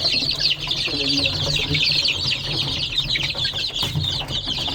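A crowd of young Rhode Island Red chicks peeps continuously in a dense, high-pitched chorus, close by and steady throughout.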